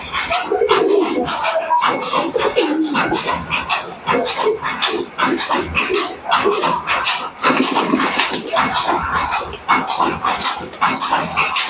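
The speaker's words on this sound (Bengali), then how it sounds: "দেখতে পেলেন সব কবুতরগুলো" A loft full of mixed fancy pigeons gives off low cooing mixed with constant scratchy rustling, wing flutters and clattering movement, close and fairly loud throughout.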